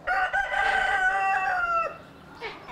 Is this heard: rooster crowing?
yes